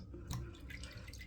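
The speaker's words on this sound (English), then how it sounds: "I got the warm water in the sink." Warm water runs and drips into a bathroom sink, a quiet, steady trickle with a few brief splashes, heard close up with no talking.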